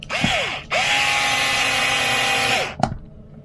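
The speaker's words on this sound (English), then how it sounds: "Gotta love the Milwaukee screwdriver." A Milwaukee M4 electric screwdriver drives bead lock screws into a 1/5 scale billet RC wheel, giving a short whirring burst, then a long steady high whine that winds down, then a brief final blip, all close and loud with no talk.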